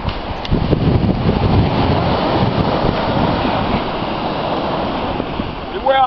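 Ocean surf breaking on a Gulf Shores, Alabama beach during shore fishing, a loud continuous roar of waves and washing foam with wind buffeting the microphone throughout.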